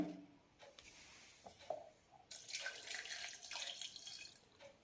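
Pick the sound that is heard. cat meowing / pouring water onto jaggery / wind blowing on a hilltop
pouring water onto jaggery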